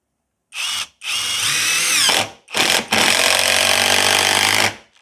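Banggood brushless impact driver set to its lowest torque, driving screws: four loud, close bursts of high-pitched whirring and rapid hammering, the last and longest running almost two seconds, with no talk.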